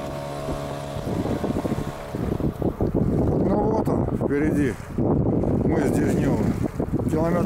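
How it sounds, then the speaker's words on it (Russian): Strong wind buffets a boat sailing near Cape Dezhnev, with a steady motor-like drone at the start. Voices talk over the gusty rushing noise throughout. "около мыса Дежнёва нам наконец подул долгожданный попутный ветер"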